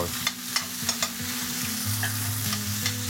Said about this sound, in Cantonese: 將啦啲鹹牛肉啊同埋啲五香肉丁啊炒香咗佢先嘅